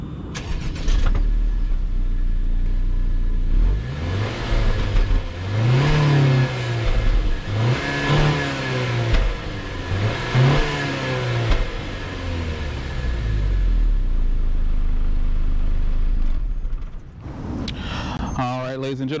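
A turbocharged 2.0-litre engine in a 2018 Honda Accord with a 6-speed manual idles, then revs up hard several times in rising and falling surges, loud and close, settling back to a steady drone.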